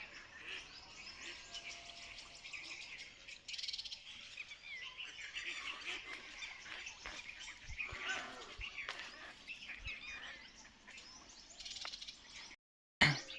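Birds chirp and call over a farm pond beside a field being readied for maize, a steady stream of small bright calls at middle distance, continuous over faint outdoor background noise.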